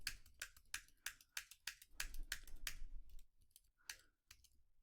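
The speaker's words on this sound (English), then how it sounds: "I'm just going to type this in." Quick clacking keystrokes on a computer keyboard while entering numbers into a desktop layout program, a close, fairly quiet burst of irregular taps with short pauses between them.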